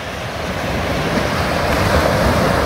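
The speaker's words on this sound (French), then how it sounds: "La mer pas trop agitée." Waves from a fairly calm Mediterranean sea at Aguilas wash steadily onto the shore in a continuous broad roar, with wind buffeting the microphone throughout.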